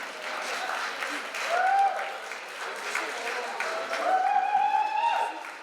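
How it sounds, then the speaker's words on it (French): An audience applauds a youth climbing competition podium finisher at a French Cup final, steady clapping and crowd noise rising in two swells, with whistles or cheers and a voice over the top. "on l'applaudit bien fort"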